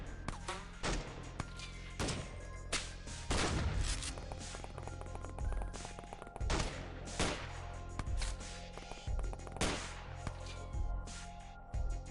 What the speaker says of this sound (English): That's a toxic gun or chem gun or something like that.